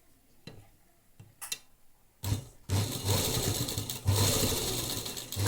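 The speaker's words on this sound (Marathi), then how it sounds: "आपल्याला पुन्हा फोल्ड करून घ्यायचं आहे आणि शिलाई पुन्हा मारून घ्यायची आहे" Sewing machine stitching fabric for a heart latkan, a few short ticking taps, then a loud fast running mechanical whir with a rhythmic hum, close up.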